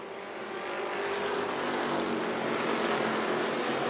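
Stock cars roaring around the dirt oval at Volusia Speedway Park during a Thunderstocks feature race, a dense, continuous engine drone that holds steady and loud throughout.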